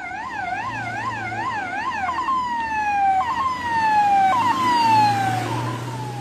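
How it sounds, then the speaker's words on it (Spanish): An ambulance siren wails at a road accident scene, first in a fast warbling yelp and then switching to long descending wails, loud and close over traffic rumble. "Aquí va a salir otra de las ambulancias."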